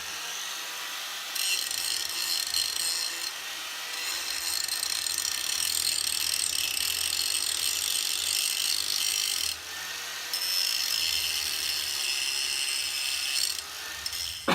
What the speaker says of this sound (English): I'm just going to grind off some of this excess material